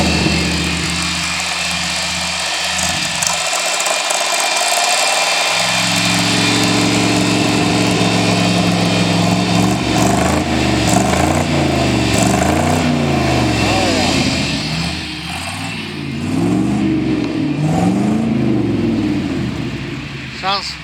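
A Chevrolet C65 truck engine with a newly fitted exhaust idles and then revs repeatedly, each surge rising and falling in loud, close, throaty bursts, with people talking faintly in the background.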